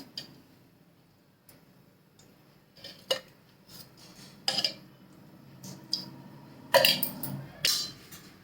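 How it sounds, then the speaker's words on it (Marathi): A kadhai set on a gas stove and oil spooned in, a few soft scattered clinks and taps of metal spoon on pan in a quiet kitchen. "आता गॅसवरती कढई ठेवली आता त्याच्यामध्ये दोन चमचे तेल टाकते"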